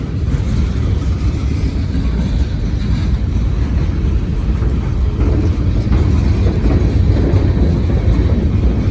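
A freight train with six locomotives, including a slug unit and a mid-train distributed power unit, rumbles steadily past up close on street-running track, its deep continuous roar and rattling wheels filling the whole stretch without pause.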